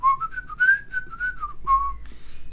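Someone whistles a short melody up close, sliding smoothly between notes in a clear, solo tune.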